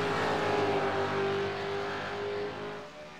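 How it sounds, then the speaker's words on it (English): Two V8 supercars in an ANZAC six-hour race roar past in line astern, a loud, steady high engine drone that slowly fades as they move away. "Seeing these two V8 supercars in line astern."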